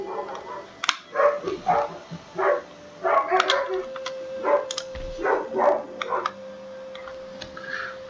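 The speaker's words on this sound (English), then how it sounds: "I hear my sister's dogs barking in the background" Dogs bark intermittently in the background of a home during a strategy game session, several short sharp barks scattered through a steady low hum and ticking.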